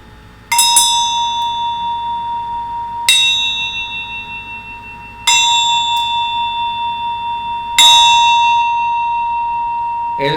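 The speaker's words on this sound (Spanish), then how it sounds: "La que forma la campana cuando yo le hago así es una onda vibratoria" A bell is struck four times at even intervals, each strike ringing loud and clear with a long sustained metallic tone that slowly decays before the next hit, no voices heard.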